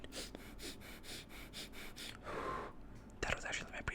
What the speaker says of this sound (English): That was actually my breathing exercise.